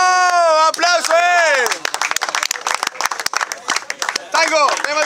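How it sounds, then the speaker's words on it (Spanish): A freestyle rap battle crowd bursts into a few seconds of clapping and cheering, loud and close, after a host's shouted call. "¡Tiempo! ¡Aplausos!"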